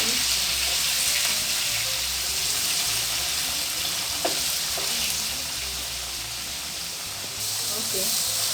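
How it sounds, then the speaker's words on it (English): Hake frying in hot oil with ginger and garlic gives a loud, steady sizzle and hiss, with a few faint clinks of stirring partway through. "Okay, our fish is frying."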